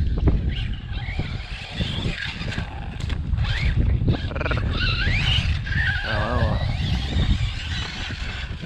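A small Team Corally Python remote-control buggy whines and revs continuously on an off-road track, with skidding tire noise and wind rumble; engine pitch rises and falls as it drives.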